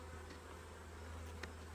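Buckfast honey bees drone steadily at an open hive in a low, continuous hum, fairly quiet and unbroken, with one brief faint tap near the end.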